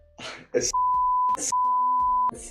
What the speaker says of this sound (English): I'll put a little bit of a beep in there.